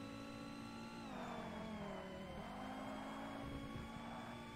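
A Volvo race car in Forza Motorsport, driven in a GT endurance race, holds a steady engine drone throughout, its pitch dipping and climbing again as it revs, loud and alone with no talk.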